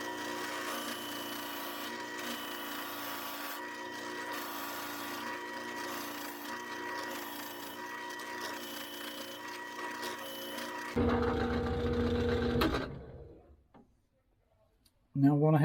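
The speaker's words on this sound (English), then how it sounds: "we're going to drill this torsion bit all the way through." A power drill fitted with a 3/4-inch torsion bit bores through a wooden pole for a phone stand, giving a steady droning whine that swells into a louder grinding burst near the end before stopping.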